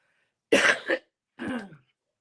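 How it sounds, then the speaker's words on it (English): Two rough coughs up close in a quiet room, the first longer and doubled, the second shorter after a brief pause. "I still have the cough a little bit"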